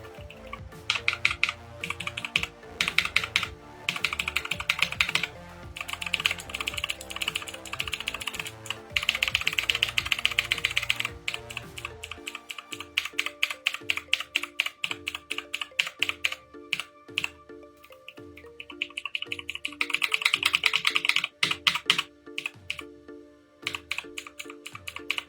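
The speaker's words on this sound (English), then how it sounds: "We're going to pop a clear O-ring on one of these keys so you can hear the kind of difference you can" Computer keyboard keys fitted with clear O-ring dampeners are pressed in fast bursts of typing, then in slower, evenly spaced single strokes, each keystroke a close, muted clack with no voices.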